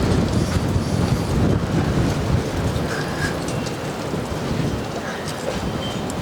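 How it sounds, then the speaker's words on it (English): A strong wind gusts outdoors beside an old cabin, a dense roaring rush that stays close and loud throughout, with no voices. "Ooh, wind. Yeah, very windy today."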